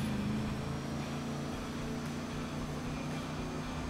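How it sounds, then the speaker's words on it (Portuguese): Vapid Chino car in GTA 5 Online idling with a steady, low engine drone, an even rumble that holds constant without revving, moderately loud and alone. "vamos ver como é que sai o ronco desse monstrão aqui"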